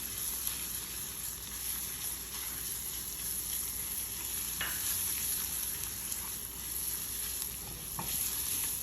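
Salt and pepper chicken wings with jalapenos stir-frying in a pan: a continuous loud sizzle with scraping stirs and a couple of sharp clicks from the utensil, no talking.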